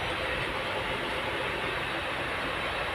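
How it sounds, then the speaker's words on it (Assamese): From inside a passenger train at night, the carriage rumbles steadily and loudly as the train slowly starts moving, a continuous dense roar with no talk. "এতিয়া ট্ৰেইন ষ্টাৰ্ট কৰিছে দেখিছে ট্ৰেইন যাই আছে লাহে লাহে"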